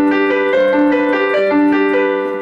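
Keyboard notes played in an even, mechanical rhythm, each chord struck evenly with no expression, steady and close.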